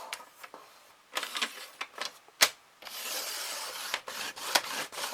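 Paper creased into a fold, with short rubbing and scraping strokes in bursts followed by a longer, steady smoothing rasp, close and quiet, no talking.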